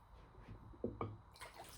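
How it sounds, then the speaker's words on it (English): Knife-sharpening whetstones, 1000 and 3000 grit, set back into a water bath, giving a couple of quiet, close wet plunks and a soft splash in a faint, still room. "I put the stones right back in the water."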